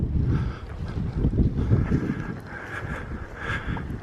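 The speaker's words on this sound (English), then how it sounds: "the wind's blowing from this direction" Wind buffets the microphone outdoors on open access land in the countryside, a steady low rumbling gust that swells and eases throughout, with no talking.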